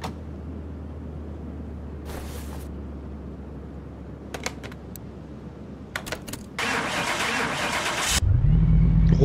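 A car engine in Car Mechanic Simulator 2021 cranks and catches after a few mechanical clicks and clunks, then revs up loudly, ending in a strong, rising roar.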